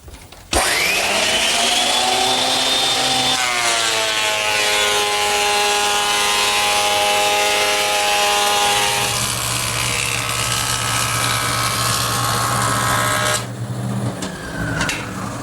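A surface planer planes a board with a chute carrying chips to a vacuum, a loud, sustained motor whine with a rising tonal hum and steady roar of cutting, dropping off abruptly near the end.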